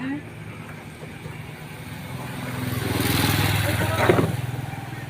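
A motorcycle engine running while being ridden, a steady low hum that swells louder toward the middle and then eases off slightly, with voices talking over it.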